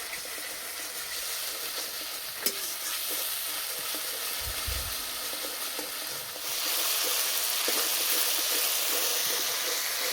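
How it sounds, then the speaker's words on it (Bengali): Ginger-garlic paste frying gently on low heat in a pan, a steady soft sizzle throughout with a brief stir or clink partway, the hiss brightening slightly in the second half. "এবার দেবো আদা রসুন বাটা, এই মশলাটা হালকা আঁচে ভেজে নেব"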